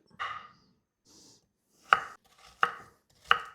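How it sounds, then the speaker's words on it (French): A knife chops peeled carrots into small cubes on a cutting board: one soft cut, then three sharp, evenly spaced thuds, close and clear with quiet gaps between them. "Et je vais couper des petits cubes."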